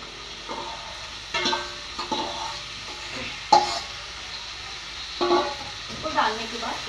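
Pumpkin with tomato and onion frying in a pan and being stirred, a steady sizzle broken by several louder scraping stirs, with no talk over it.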